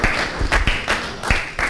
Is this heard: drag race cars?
no